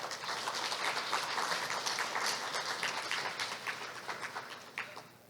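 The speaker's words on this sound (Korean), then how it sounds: "큰 박수 부탁드립니다" An audience at an academic conference applauds a guest, dense broadband clapping from many people that holds steady and then tapers off at the end.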